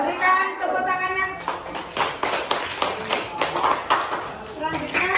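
Primary-school children in a classroom clap their hands in scattered, uneven bursts while young voices chatter and call out over the clapping.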